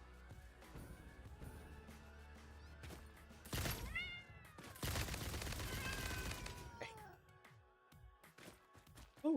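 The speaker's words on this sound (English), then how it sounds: "Oh, there's so many more angry kitties down there." Hostile alien creatures in the factory game Satisfactory let out loud, yowling cat-like screeches amid bursts of rapid gunfire, with a low steady machine drone underneath.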